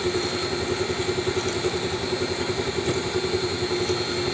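An electric beater whirs steadily through banana pudding cake batter, a constant close motor hum with a faint rhythmic pulse and no pauses.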